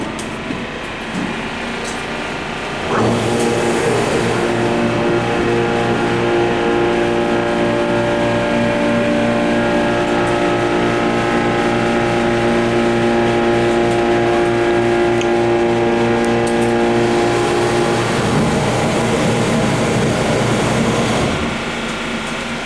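Schindler 330A hydraulic elevator machinery in an open motor room at a hotel, its pump motor kicking in at about three seconds with a loud, steady tonal hum and whine that runs on until stopping near twenty-one seconds.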